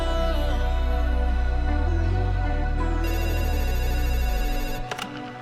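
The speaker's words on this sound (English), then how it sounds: "Phone's ringing." A phone ringtone plays loudly and continuously in a steady, repeating tonal pattern with layered electronic tones, cutting off near the end.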